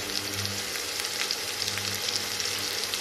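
Onions frying gently in a pan for a tadka give off a continuous, even sizzle with a dense, crackling hiss and no talking.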